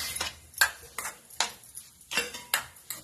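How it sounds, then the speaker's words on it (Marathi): A spoon stirs a salad mixture in a bowl, giving a series of sharp metallic clinks and scrapes at an uneven rhythm, close and clear with no talk. "आता हे मिश्रण चांगलं हलवायचं."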